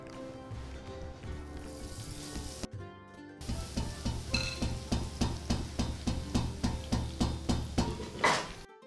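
Fine boondi for motichoor ladoo fry in ghee with a steady sizzle, while a spoon taps out a quick, regular rhythm close by.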